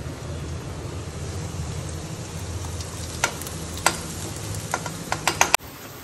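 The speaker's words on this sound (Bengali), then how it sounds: "রসুন ভাজা হচ্ছে, বেশি পেঁয়াজ।" Garlic and onion fry in a pan with a dense, steady sizzle close by, broken near the end by several sharp clinks and taps of a utensil before the sound cuts off abruptly.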